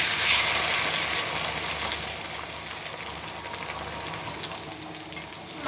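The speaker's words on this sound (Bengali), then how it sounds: "এবার এর মধ্যেই এক পাশে ডিমটা দিয়ে ভেজে নেব" An egg fries in a pan beside chicken pieces for chow, giving a steady close hiss and crackle of sizzling oil throughout, with no one talking.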